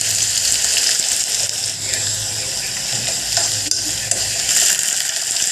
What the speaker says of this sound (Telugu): ఇప్పుడు ఒక పాన్లో ఆయిల్ వేసి వీటన్నింటిని వేసి చక్కగా ఫ్రై చేసుకోవాలి.